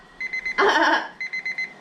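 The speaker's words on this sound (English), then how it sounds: "And now timer went off" A kitchen timer alarm going off while frozen dim sum cooks, a loud electronic beeping in short rhythmic bursts, with a brief burst of broader noise in the middle.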